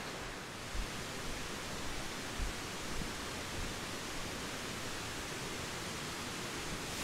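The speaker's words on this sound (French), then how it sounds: "Donc là il y a une cascade." A waterfall on a river in the Huasteca Potosina region of Mexico gives a steady, broad rushing roar with no pauses. It is constant and enveloping, with no voices on top.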